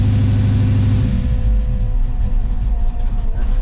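Swapped engine in a Pontiac Firebird idling close by, a loud low rumbling drone with an uneven, slightly rough pulse as if plugs are fouled.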